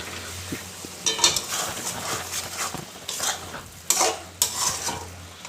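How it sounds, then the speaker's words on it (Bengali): Tomatoes and salt sauté over a low flame for chicken jalfrezi. A spatula scrapes and stirs the pan in repeated strokes over a soft, steady sizzle, close up, with no talking. "নুন দিয়ে আবার এটাকে ভালো করে কষতে থাকুন"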